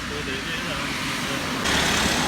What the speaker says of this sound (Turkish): bir sürü araba geçiyor olmuyor.